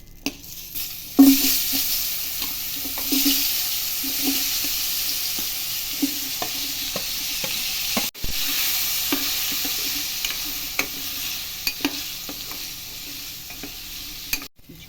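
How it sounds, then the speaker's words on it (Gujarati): Raw mango pieces, with red chillies, frying in a pan, a continuous close sizzle broken by a steady run of spatula scrapes and taps, and one sharp knock midway. "હવે તેમાં કટિંગ કરેલી કેરીના ટુકડા એડ કરીશું."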